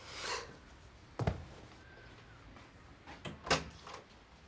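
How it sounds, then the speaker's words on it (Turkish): A door opens in a home, with a sharp latch click and a thump, then a second clunk a couple of seconds later, set against quiet room tone and no speech. "Melek, kapıyı açar mısın?"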